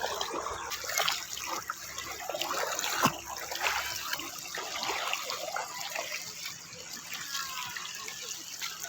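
River water trickling and splashing over white stones at a campsite in Tanay, Rizal, a steady nearby babble with faint voices around.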